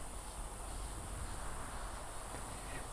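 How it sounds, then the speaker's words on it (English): A dense, continuous buzzing chorus of cicadas in a forest in the video game Lost Odyssey fills the air, steady and even, with a bright high-pitched whine and no voices. "The downpour of cicada cries continues unabated."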